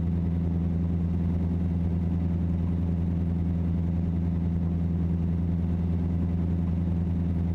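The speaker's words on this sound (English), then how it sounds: "the engine's really struggling and it's quite loud for me" A heavy truck engine in American Truck Simulator labours uphill, giving off a steady, loud low drone that holds without letting up and with no voices over it.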